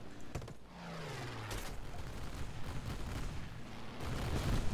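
Aircraft guns fire in bursts at a Ki-61 fighter in War Thunder, with sharp rattling volleys and a steady engine drone beneath, growing louder toward the end.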